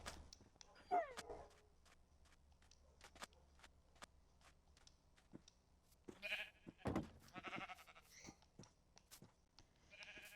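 Sheep bleat in the farming game Isles of Murtagh, a couple of faint bleats early and a louder cluster later, over quiet background with scattered soft clicks.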